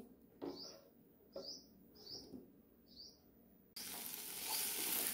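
Boiled, chopped potatoes sauté in a pan for a vegetable dish, with several short scraping stirs and faint chirpy sounds at first, then a steady, louder sizzle of frying that takes over for the rest of the clip.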